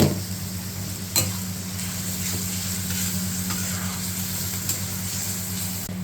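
Snake gourd and bengal gram curry frying in oil in a pan, a steady close sizzle with faint stirring scrapes throughout.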